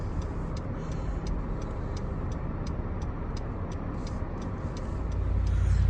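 Cars drive past on a snowy road during the first heavy snow in Calgary, Canada, giving a steady close rumble of tires and engines with faint ticking on top, growing louder toward the end.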